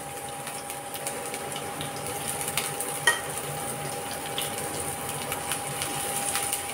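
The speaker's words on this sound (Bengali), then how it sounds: "ডালটা ফোড়ন দিয়ে দিচ্ছি, এই শুকনো লঙ্কা দিয়ে দিলাম, আর এই এখন পেঁয়াজ কুচিটা দিয়ে দিই" Chopped onion and dried red chilli crackle steadily in hot oil as a tempering for masoor dal, a continuous close sizzle with small pops and a faint steady hum underneath, no voices.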